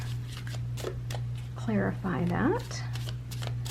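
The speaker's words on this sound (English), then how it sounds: "let's shuffle these cards" Tarot cards are shuffled by hand in quick papery riffles and slides close by, partly under a speaking voice, with a steady electrical hum in the background.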